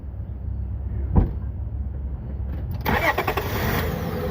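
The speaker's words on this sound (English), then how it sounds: "So now he should be able to start your car." A car engine cranks and catches after a loose battery terminal is wiggled, then settles into a close, rough idle; no talking.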